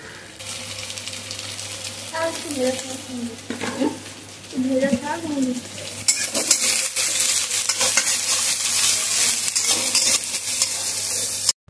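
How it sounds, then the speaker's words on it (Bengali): Chopped onion, capsicum and garlic are stirred as they fry in a pan, with sizzling and the scrape of the spoon, and someone talks over it before the frying hiss grows louder and continues alone. "এখন এই রসুনের সাথে নাড়াচাড়া করতে হবে"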